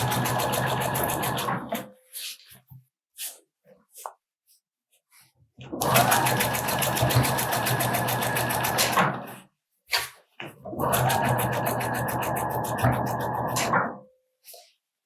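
Home sewing machine stitching a sleeve onto a garment, running in three steady whirring bursts separated by quiet pauses with faint handling noises, close and moderately loud.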